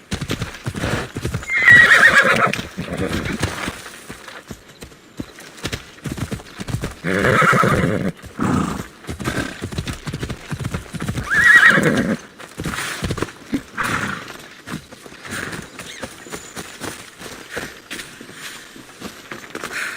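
Horse in the video game Assassin's Creed Odyssey, with hooves clip-clopping along and repeated loud neighs and whinnies breaking through, close and prominent throughout.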